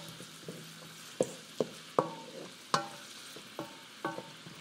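Onions softening in a pot, stirred with a utensil: a low, steady sizzle with about half a dozen sharp scrapes and knocks against the pot at irregular intervals, close and fairly quiet.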